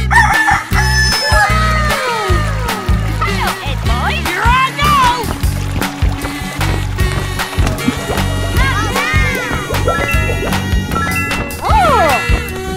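A cartoon rooster crows and chickens cluck over loud, busy music, with repeated rising crows and clucks throughout and occasional crashing effects.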